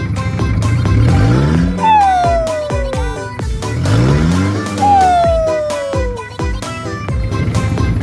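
Two loud, close revs of a modified car's turbocharged engine, each climbing then falling away, with a whistling turbo tone sliding down as the revs drop.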